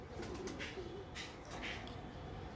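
Domestic pigeons, pankhi and flying-line breeds, coo in soft, repeated throaty rolls close by, several calls overlapping in a steady murmur.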